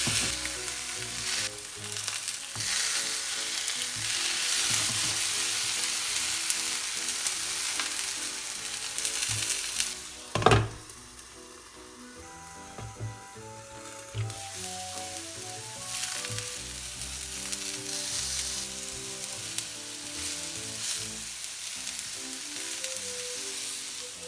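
Tofu and eggplant frying in a pan for Japanese miso dengaku, a steady close sizzle and crackle with occasional stirring and clatter, one brief louder clack partway through.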